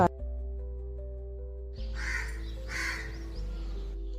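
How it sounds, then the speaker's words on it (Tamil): A crow caws a few times at a moderate distance, short harsh calls over a steady low hum and faint household background. "நம்ம ரெகுலர் காக்காவும் வந்து சாப்பிட்டு கிளம்பிட்டாங்க"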